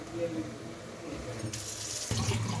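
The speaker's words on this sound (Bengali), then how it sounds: "এই যে ভেন্ডি ধুয়ে রাখছি এখন কেটে ভাজি করবো" Tap water runs steadily into a kitchen sink while okra is washed by hand, a continuous splashing rush that swells louder and brighter partway through, with faint clatter and no clear speech.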